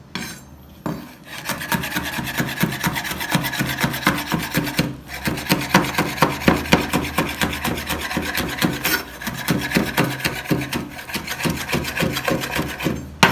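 A knife chops green chili finely on a wooden cutting board, producing rapid, rhythmic, close-up tapping strikes in quick succession with brief pauses between bursts, and no talking.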